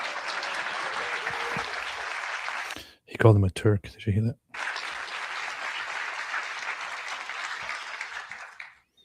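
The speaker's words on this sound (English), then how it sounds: "So let's give Frank a round of applause." Audience applause for Frank Turek, a steady wash of many hands clapping that fills the room, breaks off for a short spoken remark in the middle, then resumes just as full and continuous.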